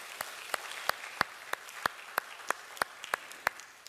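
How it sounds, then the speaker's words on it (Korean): Sparse, slow clapping at a Korean church service welcoming newcomers, about a dozen distinct claps in a loose, even rhythm, fairly faint against a quiet room. "여러분 다시 한번 서로에게 환영의 박수 한번 해주세요"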